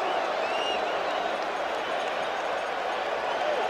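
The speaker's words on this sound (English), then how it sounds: "Naturally, the crowd hollers balk" A packed baseball crowd at World Series Game 6, Red Sox at Mets, roars continuously in a dense, far-off wall of hollering at a pitcher's fake throw, with no break in the noise.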